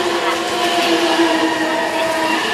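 A JR E657 series Fresh Hitachi express train pulls in at platform 1 of Tomobe Station in Japan, with a loud, steady rolling rumble and humming tones, close by, throughout the short moment.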